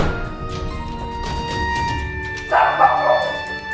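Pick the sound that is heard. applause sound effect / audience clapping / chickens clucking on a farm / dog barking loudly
dog barking loudly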